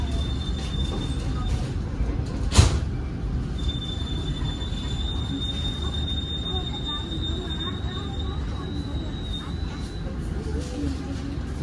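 A Ciremai passenger train idles at the Sasaksaat tunnel mouth, a steady low rumble with a high-pitched squeal drawn out across the middle, one sharp knock early on, and faint talk underneath.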